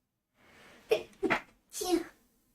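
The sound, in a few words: sneezing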